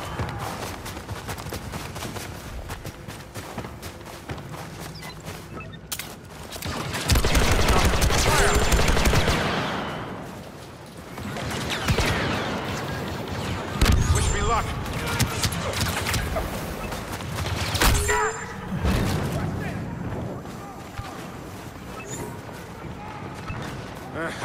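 Blaster fire from Star Wars Battlefront 2 on Hoth crackles in rapid bursts over a steady battle din, with heavier volleys swelling loud around the middle and a voice talking through parts of it.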